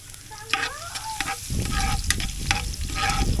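Food sautéing in a pan at a home birthday gathering, giving a steady frying sizzle with spoon scrapes and clinks. Faint chirps sit over the first part, and no one talks.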